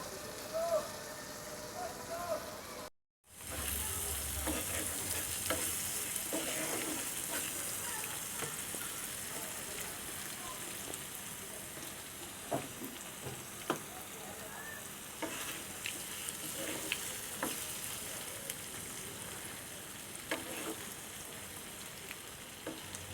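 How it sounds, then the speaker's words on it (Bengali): Spice masala cooks down in a pan with a splash of water for a koi fish and peas dish. A continuous bubbling sizzle with scattered pops and crackles lasts throughout after a brief gap near the start. "পানিটা দিয়ে মশলাগুলো ভালো করে কষাই নিব মশলাটা কষানো হওয়া পর্যন্ত একটু অপেক্ষা করছি"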